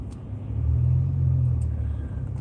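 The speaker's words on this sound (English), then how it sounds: "I'm doing this live from my own car going to work" Steady low rumble inside a moving car on the drive to work, swelling louder through the middle with road and engine drone, then easing slightly, with no talking.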